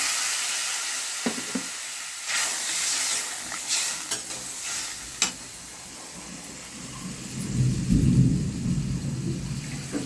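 Rain falls steadily outside while thunder rumbles low and builds toward the end, with occasional clinks of stirring in a kitchen pot layered over the wash of rainfall.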